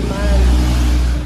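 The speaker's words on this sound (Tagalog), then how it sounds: "motor na dumaan" A motorcycle passes on a rural provincial road where road widening is under way, a steady engine drone close by for about a second.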